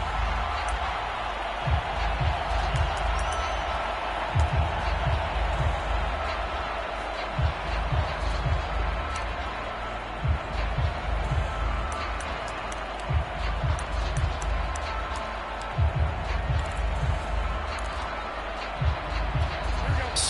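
A football stadium crowd in a video game roars as a steady broad wash under a commentator's continuous play-by-play, with low rumbling thumps now and then.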